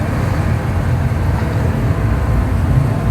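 A Suzuki Cuore car's engine running at idle, heard up close as a loud, steady low rumble with constant broadband noise and no change in pace.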